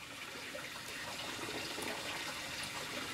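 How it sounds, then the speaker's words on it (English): Water rising and filling an aquaponic solids filter built from a fish tank canister filter, a continuous gurgling, splashy flow heard close up and steady, with faint bubbly spikes and no talk. "we're starting to get some water to come up the top there"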